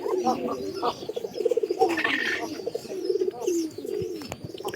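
Pigeons coo in a repeated, throaty run of calls close by, several overlapping phrases with a brief higher chirp in the middle, no voices.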